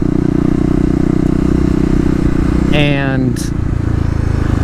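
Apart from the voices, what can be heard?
2018 KLX250 motorcycle engine during a wheelie in second gear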